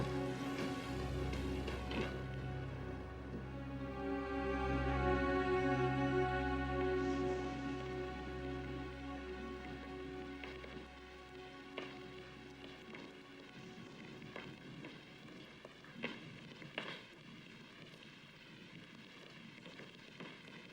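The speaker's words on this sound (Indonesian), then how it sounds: "Aduh, awas hujan." Rain falls as a faint, steady crackling patter that grows clearer once a sustained tonal backdrop fades, with no one speaking.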